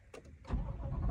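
A car engine cranks and catches, rising into a low, steady idle rumble after a few faint clicks and rattles, heard up close from inside the vehicle.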